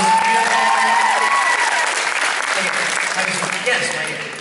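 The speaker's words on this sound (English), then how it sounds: "Give them a round of applause." Loud, dense applause from a convention audience at the Supernova pop culture event in Melbourne, 2013, greeting two guests standing together on stage. The clapping stays strong throughout with voices mixed in, then eases slightly toward the end.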